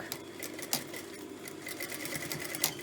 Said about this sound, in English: So we're going to stitch through there at the mark,